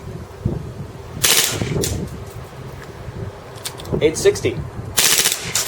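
KWC Taurus PT99 airsoft pistol firing full auto: two short, sharp buzzing bursts, one early and one at the end, with a voice talking in between over a low background hum.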